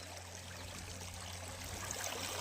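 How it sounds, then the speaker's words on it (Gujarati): Steady river water rushing along without pause, a full, even wash of flowing sound close by, with a low hum underneath and no voices. "જો નદીમાં પાણી જેવું મસ્ત આવે છે"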